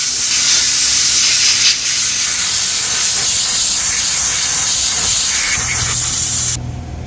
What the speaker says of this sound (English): So I sandblasted the whole thing.